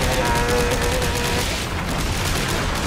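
Dense, loud video-game gunfire and booming impacts from Dead Space 3, a continuous rapid barrage over a thick combat soundscape with no clear gaps.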